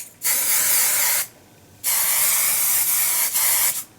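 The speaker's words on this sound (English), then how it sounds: "now I'm just going to give my hair a little bit of a spray" Two long bursts of hairspray hiss close by onto hair, separated by a short pause, with a slight flutter in the second burst.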